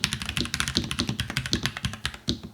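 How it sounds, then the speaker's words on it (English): Rapid clacky typing on a NuPhy Halo 65 mechanical keyboard with brown switches, crisp close keystrokes in quick uneven bursts, no voices. "The sound profile of the brown switches is definitely a bit more crisp and sharp"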